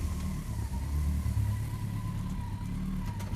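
A Honda Blackbird motorcycle engine rumbles steadily nearby as it rolls in, a low, continuous mid-pitched drone with a faint whine and no talk over it.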